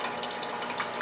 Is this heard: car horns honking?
no